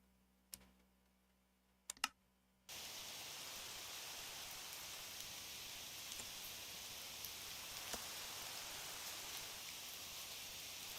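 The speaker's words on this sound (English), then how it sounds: "I have a mod that changes my rain sounds." Modded rain ambience in a building video game, a steady wash of rainfall with faint patter that starts abruptly after a few quiet clicks and then runs unbroken and fairly loud to the end.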